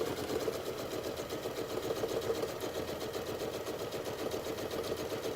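A sewing machine stitches quilt binding, its motor whirring in a steady, fast, even run with no pauses, fairly quiet throughout.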